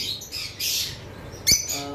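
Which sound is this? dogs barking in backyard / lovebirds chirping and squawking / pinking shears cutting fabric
lovebirds chirping and squawking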